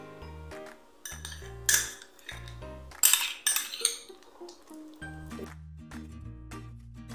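Melted chocolate and butter are stirred in a bowl, with a utensil clinking and scraping against the dish in bursts and short pauses, close and fairly quiet.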